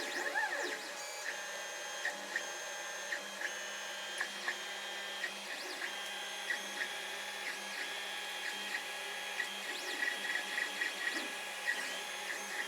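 A Creality Ender 5 Plus 3D printer runs a large print, its stepper motors whining in shifting tones with rhythmic clicks and faint ticks, steady and moderately quiet with no talk.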